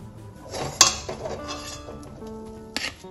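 Cooked green pea filling for flattened-rice chops being moved onto a plate, with a sharp metal clink of a utensil against the plate early on, softer scraping, and another brief clink near the end.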